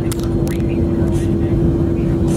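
Steady, loud engine drone inside a small private plane, a constant low rumble with a fixed hum that runs the whole time while voices murmur faintly over it.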